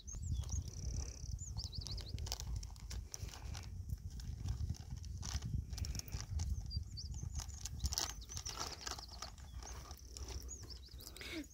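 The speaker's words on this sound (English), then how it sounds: "There's a horsey over there." A horse close by outdoors in the countryside, with steady clip-clop hoof sounds and rustling amid outdoor ambience, fairly faint, alongside dogs playing nearby.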